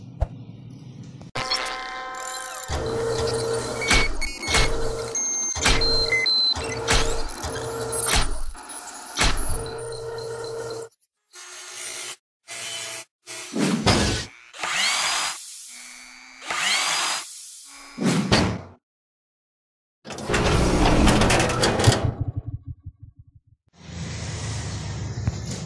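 A Xerox 5755-series office copier runs a double-sided print job with a string of whirring, clicking feed mechanisms, sharp clunks and motor bursts. The sounds come in close, stop-start bursts separated by short silences.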